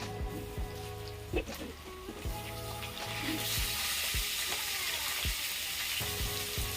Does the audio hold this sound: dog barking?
no